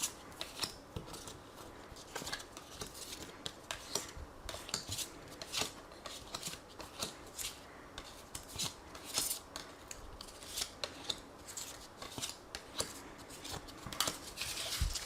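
Tarot cards are shuffled and drawn in a steady run of quick papery slaps and riffles, close and fairly quiet, repeating in irregular bursts throughout with no speech.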